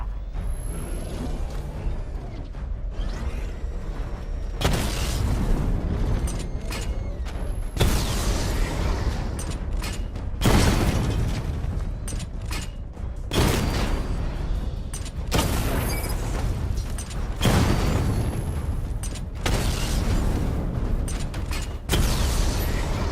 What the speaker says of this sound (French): Charger le barrage de missiles au niveau 2 pour détruire jusqu'à 4 cibles.